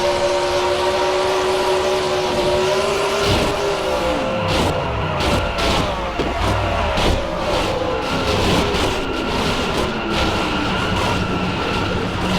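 An MG race car in a 2005 Las Vegas cup race screams on board, its engine loud and constant with pitch sweeping up and down through gear changes.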